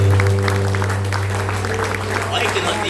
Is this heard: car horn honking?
no